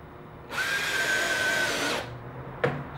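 A power drill drives panel cover screws into a room panel, giving one steady, close whine of about a second and a half, followed by a short click.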